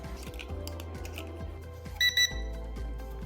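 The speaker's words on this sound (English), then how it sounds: "Then you hear 2 beeps." Two quick high electronic beeps from a Holy Stone HS360 drone during compass calibration sound close together over a steady low mechanical hum with faint rhythmic clicking.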